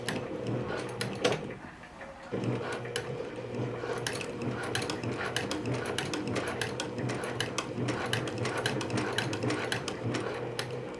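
A sewing machine runs steadily while sewing a reinforced stitch on a pair of pants, a continuous mechanical whir with rapid ticking needle strokes and a brief dip in pace early on.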